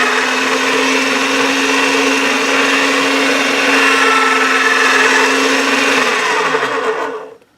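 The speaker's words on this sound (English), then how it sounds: "I'm going to run it through the pasta machine on the thickest setting, which is 9 playing cards." Steady, loud motorized whir from a pasta machine rolling a slab of polymer clay on its thickest setting, a continuous drone with a low hum that cuts off abruptly at the end.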